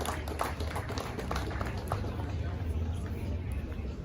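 Audience applause at an anniversary celebration durbar, steady dense clapping from a crowd throughout, moderately distant with some background babble.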